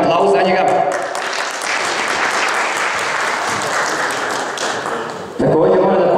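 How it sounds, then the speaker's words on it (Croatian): Applause from an audience at the opening of a chess tournament, welcoming a chess grandmaster: a dense, steady burst of clapping lasting several seconds, close and loud, tapering before a voice resumes. "molim jedan aplauz za njega"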